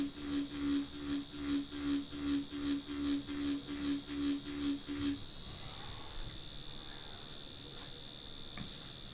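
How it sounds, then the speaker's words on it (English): Dragonhawk Mast Archer 2 tattoo machine running slowly while shading, giving a faint, steady buzz that pulses about twice a second for roughly five seconds before cutting out to quiet room tone. "this machine is very nice to build up these shades. Can run pretty slow, and it's really soft"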